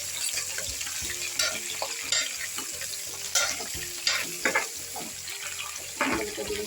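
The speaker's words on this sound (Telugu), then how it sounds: "ఇవన్నీ ఫ్రై చేసుకుంటాను" Vegetables frying in a pan for sambar rice, a continuous sizzle broken by frequent spatula scrapes and clanks against the pan, close and fairly loud, without speech.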